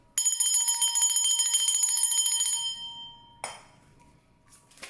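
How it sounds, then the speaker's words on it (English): A bright metallic bell rings rapidly for a few seconds, then stops and gives one last shorter ring as the tone fades. "Ringing the bell has a frequency that irritates or annoys demons"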